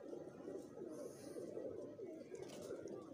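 Domestic pigeons in a keeper's pen give soft, low cooing that runs steadily under faint ambient noise throughout.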